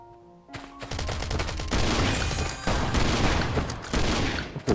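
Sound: shotgun gunfire in video game Last Island of Survival

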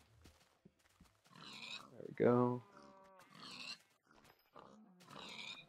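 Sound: pigs grunting in Minecraft video game

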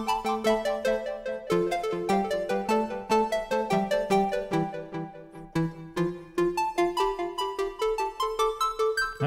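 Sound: Bitwig Studio Polysynth waveform 2 played alone

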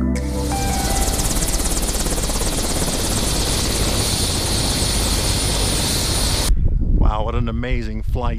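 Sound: helicopter flight to Mount Assiniboine

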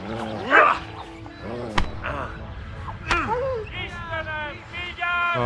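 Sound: dog barking and whimpering in Kingdom Come: Deliverance video game

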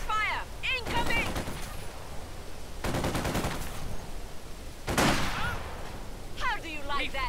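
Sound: gunfire in Company of Heroes 2 video game

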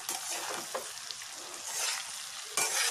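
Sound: okra frying and stirring in a pan

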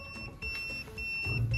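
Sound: buzzer of Kyoritsu KEW6041B insulation resistance tester sounding on live circuit

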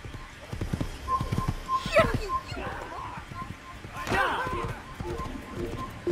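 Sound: horse galloping in Assassin's Creed video game

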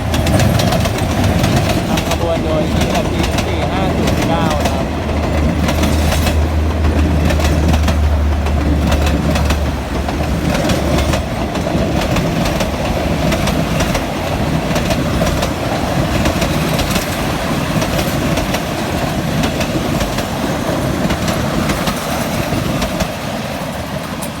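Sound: Hitachi 4509 diesel locomotive pulling train into Ban Pong station

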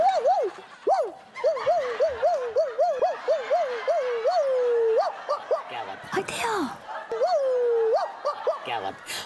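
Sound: man imitating a dog barking

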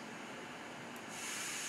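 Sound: iPhone background sound: dark noise

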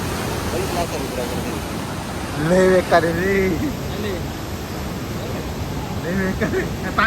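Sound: strong river water flowing under a new bridge

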